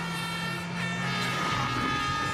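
Car number 5, driven by Jaroslav Koltun, flies over the Alaküla jump at Rally Estonia 2016. A loud, sustained rally-car engine roars close by, alone, without talk.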